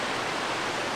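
A tall waterfall pours in a steady, loud, broadband rush that holds even and unbroken throughout, with no voices over it.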